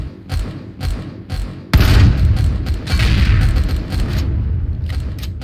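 Base defense turrets in Empyrion Galactic Survival fire a string of heavy booming shots, several spaced thumps and then a loud sustained barrage that stays close and powerful.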